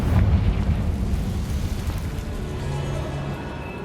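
A Confringo fire spell blasts in Hogwarts Legacy, a loud rumbling burst that starts strongest and then holds as a low, steady roar under faint rain-like crackle for a few seconds.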